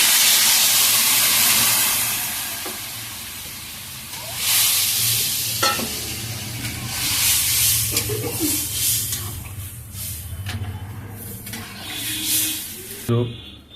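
Water poured onto fried potatoes in a pan for a tangra fish curry brings a loud burst of sizzling and steam hiss that settles into a bubbling simmer, with a voice talking briefly over it.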